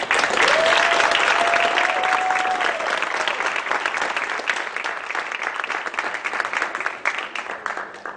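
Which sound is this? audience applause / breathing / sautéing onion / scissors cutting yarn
audience applause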